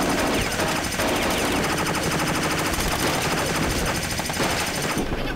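Rapid, dense gunfire from the shooter game Heavy Fire Special Operations on the Wii, loud continuous machine-gun chatter filling the whole stretch with no pause.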